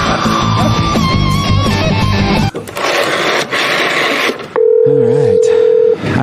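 A telephone is used to check voicemail. Loud layered tones and buzzing give way to a sharp dialing tone with wavering beeps near the end, with a voice mixed in at moments.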